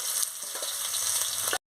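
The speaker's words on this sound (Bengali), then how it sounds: "আমি পেঁয়াজ কুচিটা দিয়ে দিচ্ছি, দিয়ে ভালো করে ভেজে নিচ্ছি।" Chopped onion frying in hot oil for a katla fish and cauliflower curry, a dense, even sizzle close by with faint stirring, ending abruptly in silence.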